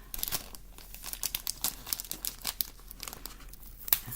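A plastic package of scrapbooking rhinestones being opened by hand, with steady soft crinkling and small tearing sounds, quiet and close, with no talking.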